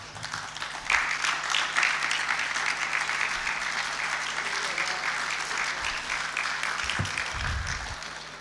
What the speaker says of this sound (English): I want to ask everybody to stand up and give a round of applause for everyone that has come before